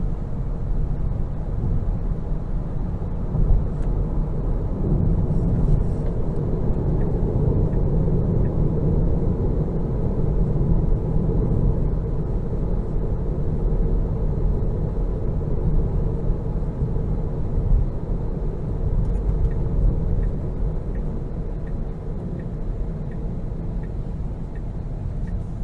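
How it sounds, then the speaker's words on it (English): A 2022 Tesla Model 3 Long Range drives along a road, giving a steady broadband hum of tyre and road noise heard from inside the cabin, continuous and fairly loud with no talking. "Even when I give it throttle, it's like driving a go-kart."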